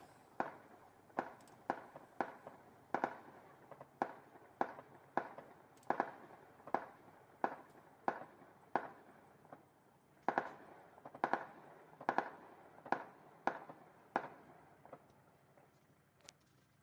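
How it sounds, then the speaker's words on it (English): Anti-aircraft system firing near Belbek, a long run of sharp, evenly spaced bangs roughly every half second to second, carrying loudly through the open air over a steady low background hum with no talk. "We see the AA system firing off again."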